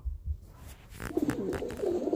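Green-necked pigeons coo in soft, low repeated phrases, close by, with a few brief thumps and rustles at the start before the cooing fills the rest.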